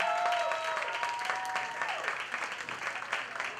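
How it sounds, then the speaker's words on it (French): Audience applause at a festive cabaret show, a dense steady clatter of clapping filling the room, with some tonal music or voices faintly mixed in. "une autre fois, une grosse main d'applaudissements pour tout le monde"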